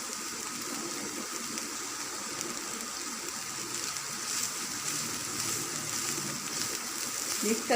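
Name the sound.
cabbage and chicken frying in a pan for spring rolls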